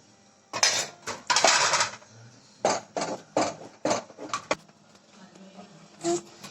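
A spoon stirs and scrapes in a hot pan while salt, pepper and Kashmiri chilli powder are mixed for homemade tomato sauce, giving a series of close, irregular metallic clinks and scrapes in short bursts.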